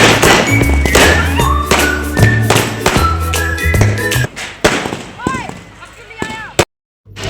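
Firecrackers set off at a wedding, a dense run of loud sharp bangs and thuds over music and voices, thinning to a few scattered pops before cutting off abruptly.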